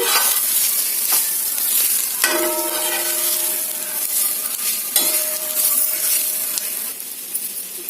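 Radish fry stirred in a hot pan, a bright continuous sizzle broken by scraping utensil strokes and occasional clinks against the metal, heard up close without speech.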